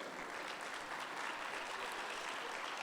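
A hall audience at a family and education congress applauds, a dense, even patter of clapping heard throughout at a moderate distance.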